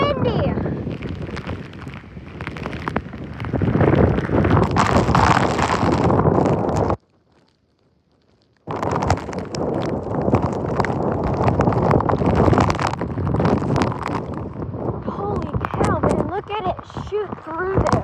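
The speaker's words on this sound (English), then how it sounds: "Man, it is windy." Strong wind from a Texas derecho storm roaring and buffeting the microphone loudly and continuously, broken by a short silent gap, with someone talking throughout.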